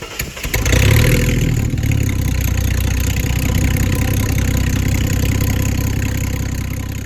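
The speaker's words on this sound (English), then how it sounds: "it is loud as hell, and I do like that part, but this dual tail piece just, I don't know, it doesn't sound very good" Ford AU Falcon off-road car with a dual tail piece exhaust fires up and settles into a loud, steady, rumbling idle that stays close and continuous throughout, with no talking.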